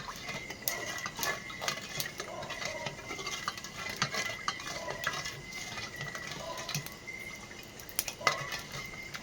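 Brown sugar being melted in a pot for suman balanghoy and stirred steadily, the utensil scraping and tapping against the pot in an irregular rhythm, with soft sizzling beneath and no voices.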